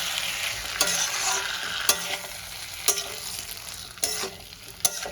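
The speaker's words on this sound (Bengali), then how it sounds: "আলু আর বেগুন মশলার সঙ্গে কষিয়ে দেব।" Potatoes and eggplant stir-fried with spices in a pan for an Indian vegetarian curry, giving a steady sizzle broken by sharp stirring scrapes about once a second, close and fairly loud, with no talking.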